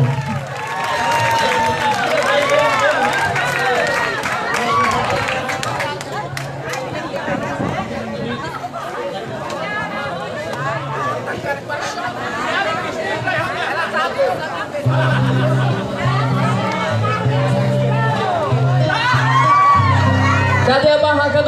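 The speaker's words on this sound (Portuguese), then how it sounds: "Aplausos para Carlito." An audience at a live Catholic church event in the Nazaré neighbourhood applauds for Carlito, claps and cheers rising over crowd chatter and voices, with music tones entering toward the end.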